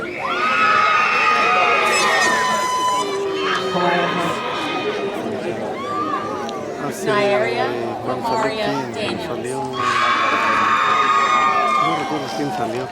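A graduation crowd at Colquitt County High School erupts in loud cheering, whooping and screaming as names are called over the speaker, with bursts of shouting swelling and fading across the clip and an announcer's voice in between.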